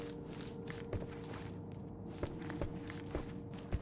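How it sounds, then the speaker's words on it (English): Faint footsteps sound upstairs in the Sherlock Holmes Chapter One video game. They are a few soft, scattered thuds over a quiet, steady background hum, with no talking. "I heard footsteps upstairs a second ago"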